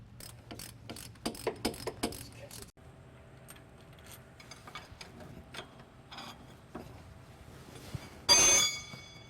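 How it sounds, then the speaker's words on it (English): Ratchet and socket backing out the retaining bolts on a driveshaft U-joint, a series of close, sharp clicking bursts in quick runs with quieter mechanical clatter between and a brief harsh burst near the end. "remove the U-joint by taking out the retaining bolts, using of course our ratchet and socket"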